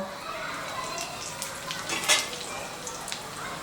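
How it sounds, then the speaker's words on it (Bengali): Whole spices (bay leaf, cinnamon, black and green cardamom, cloves, peppercorns and cumin seeds) sizzle in hot oil for a Bihari mutton curry, a steady close crackle with a brief sharper spatter midway. "তো ফোড়নটা ভাজা হোক"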